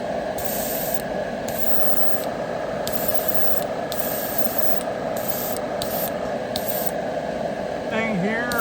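Spray gun laying a coat of paint on a 1956 Chevy Gasser body: repeated bursts of loud, close hissing spray, each lasting about a second, separated by short pauses, with a faint background hum.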